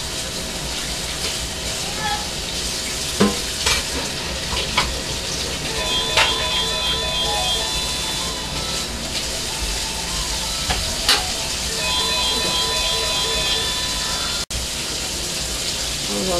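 Ground beef mince sizzles steadily in a hot pan for chilli, a dense continuous crackle with occasional louder pops and clinks of a spoon stirring, close and fairly loud throughout.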